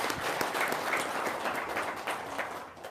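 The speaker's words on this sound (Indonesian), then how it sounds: "Tepuk tangan dulu dong." An audience at a motivational talk applauds in a continuous, fairly distant wash of clapping that holds steady for the whole stretch.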